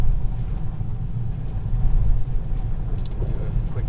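Toyota Corolla E210 hatchback on TEIN springs and Nitto tires accelerating on a wet road with traction control off, a steady low engine and road rumble continuing close and even throughout.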